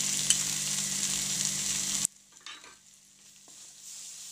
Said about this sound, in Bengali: দিয়ে আবার নাড়াচাড়া দিচ্ছি